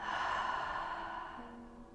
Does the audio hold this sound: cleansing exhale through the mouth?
yes